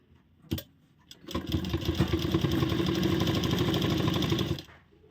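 A sewing machine stitches the folded bottom hem of an umbrella plazo, a brief tap at first, then a steady close whirring run of about three seconds that stops abruptly.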